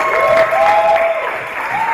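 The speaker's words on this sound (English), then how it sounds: "a round of applause for these people again" A crowd at a powerlifting meet applauding steadily and loudly for a couple of seconds, with a few cheers mixed into the clapping.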